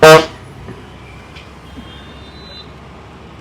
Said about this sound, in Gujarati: રિક્ષાનું જે હોર્ન છે એ તમને સંભળાવું એક વખત હોર્ન મારીને બતાવો